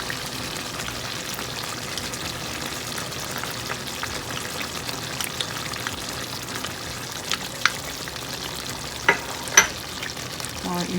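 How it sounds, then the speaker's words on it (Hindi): Desi ghee sizzles in a karahi with crushed cumin and coriander, a steady dense crackle and hiss that runs throughout, with a few louder pops near the end. "और अब हम साथ ही इसके अंदर देसी घी डाल देंगे।"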